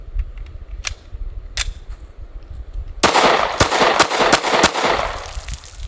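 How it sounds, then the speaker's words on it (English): Glock pistol fired after being submerged in water, several sharp loud shots in quick succession close by, following a couple of fainter clicks and handling sounds, with no talking. "Let's go ahead and see how it shoots."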